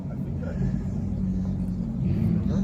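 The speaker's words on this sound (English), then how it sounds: "You can hear the kind of cars that are out here." Engines at an invite-only exotic car show in Las Vegas give off a steady, close, low rumble, with people talking over it.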